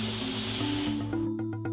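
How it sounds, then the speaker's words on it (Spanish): An aerosol spray is fired at a non-woven face mask in a filtration test, a steady close hiss that holds for about a second and then breaks into short spurts. "La prueba del aerosol nos da una primera pista de su eficiencia."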